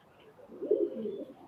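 A Fakirgul male pigeon and a Kamagar female pigeon coo close by, one soft rolling burble swelling in the middle and fading, with no voices.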